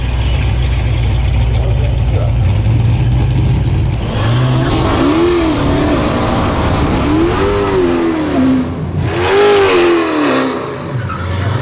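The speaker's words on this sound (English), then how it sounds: "we're gonna run Carmen in his 9-second Challenger here" A supercharged Whipple Hellcat Dodge Challenger drag car, a nine-second quarter-mile runner, revs its engine loudly and close in repeated rising and falling bursts over a rough idle, with voices in the background.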